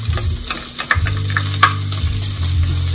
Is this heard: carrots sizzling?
yes